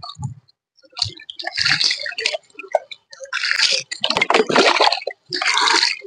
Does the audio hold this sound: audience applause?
no